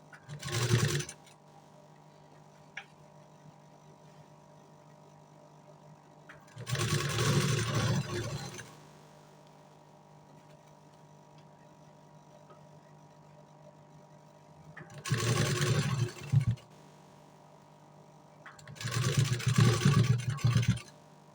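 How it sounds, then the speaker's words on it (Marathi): A sewing machine stitches a puff sleeve in four separate loud bursts of steady whirring, each lasting one to two seconds, with quiet pauses between them. "जे तुम्ही दाबशिलाई देणार आहे."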